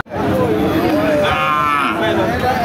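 A long, loud moo from a dairy cow with her calf drones on close by, with faint crowd chatter in the background of the open-air Chaugachha cattle market.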